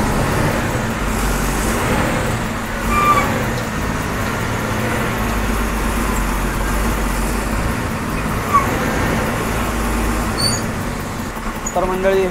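An MSRTC bus rolls along the Manchar bypass road with a continuous low engine drone and road rumble, steady throughout and heard from inside.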